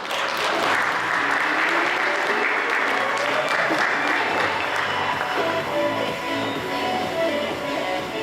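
Steady audience applause fills a hall at an award ceremony during a youth volunteer forum at a university, many hands clapping close and loud throughout with no pause, a faint crowd murmur beneath.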